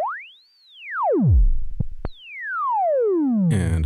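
A Moog Matriarch synthesizer's sine wave LFO sweeps an oscillator's pitch, a smooth tone rising and falling in a slow arc, then swooping high and gliding down again, clean and alone.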